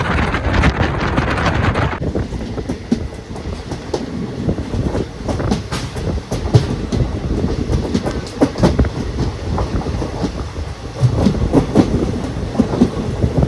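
A passenger train on the Tenkasi route rolls along steadily, with continuous rumbling and rhythmic clatter of wheels on track, plus wind buffeting the microphone throughout.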